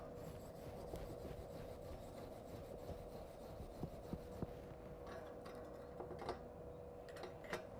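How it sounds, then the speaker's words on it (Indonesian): A steel wire brush scrubs slag off a weld, giving a faint, continuous scratchy rubbing with a few sharper ticks near the end. It sounds low in level against a steady background hum. "sisa-sisa terak ini kita bersihkan menggunakan sikat baja"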